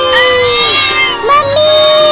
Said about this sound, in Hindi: बड़ी ही ढीठ बिल्ली है ये